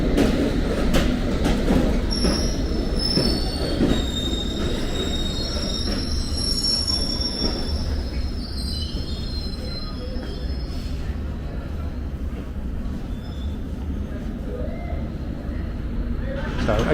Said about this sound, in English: Our train coming in now.